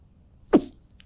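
A single sharp sneeze bursts out close by, one short loud explosive burst with a breathy tail, then quiet.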